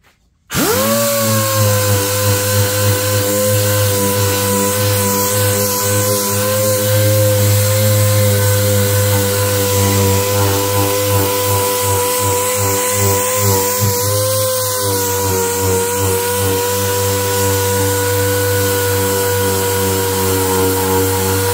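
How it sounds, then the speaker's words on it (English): A dual-action sander runs steadily on a golf cart body to remove scratches, a loud, continuous whirring hum with a buzzy tonal drone that holds nearly unchanged throughout. "Sanding the scratches out of it."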